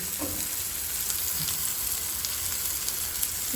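Fish frying in a pan for a Goan fish thali gives a steady, soft sizzle and crackle throughout, alone with no talk.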